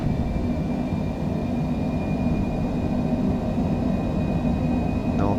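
A Cessna Citation C700 business jet in Microsoft Flight Simulator spooling up for takeoff at Munich, a steady loud engine roar with a sustained whine holding across the run.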